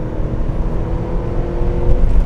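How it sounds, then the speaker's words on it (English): A 1991 Porsche 928 GT's engine revs steadily and loudly up close, a sustained droning hum that rises slightly near the end, heard from inside or beside the moving car with no talking. "Oh, she revs out nicely."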